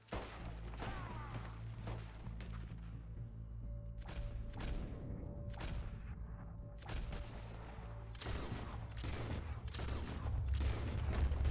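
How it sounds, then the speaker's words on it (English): Gunfire in the Red Dead Redemption 2 video game, bursts of sharp cracking shots in irregular clusters over a low rumble, fairly loud with no talking. "We're shooting our way out of here, boys."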